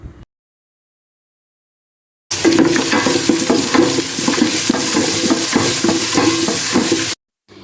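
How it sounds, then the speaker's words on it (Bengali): Onion frying in a pan with garlic and ginger paste for pulao, a steady close sizzle broken by the scrape and clatter of stirring, running unbroken for several seconds after a silent opening. "এখন দিয়ে দিব পেঁয়াজ, দিয়ে সবকিছু নেড়েচেড়ে একটু ভেজে নিব"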